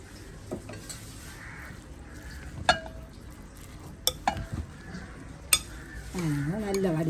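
Fried boondi being mixed into sugar syrup for laddu, with scattered metallic clinks and scrapes of a spoon against a pot over a low background, and a voice speaking briefly near the end.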